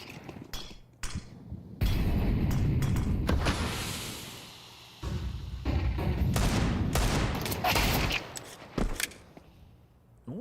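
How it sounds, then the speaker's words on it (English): Pistol fire from a Five-seveN during a professional Counter-Strike match, heard as repeated sharp gunshot bursts with brief gaps, loud and close, mixed with other in-game gunfire across the round. "Oh, JT, known for his deagle, but it's a 5-7 in this round."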